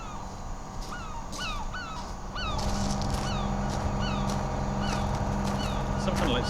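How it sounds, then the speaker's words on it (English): Seagulls squabbling, a rapid string of harsh squawks and cries repeating over a steady rumbling background that grows louder partway through, moderately near, with a voice talking underneath. "Some kind of like seagull fight going on"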